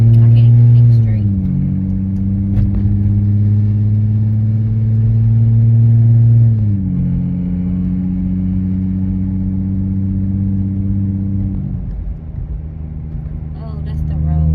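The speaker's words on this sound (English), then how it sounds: "The engine is making like a rolling noise." From inside, a car drives along with a loud, steady engine drone and rolling road rumble. The pitch steps up and down a few times as it shifts and the speed changes.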